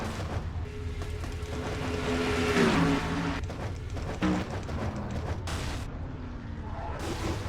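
Stock cars crash in a NASCAR-style racing video game, Dodge Challenger 500 event, with a steady engine roar, a loud impact and scraping collision noises, and a few more thuds. An announcer talks over parts of it.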